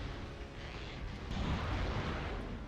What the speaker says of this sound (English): I guess I can keep blasting him with grenades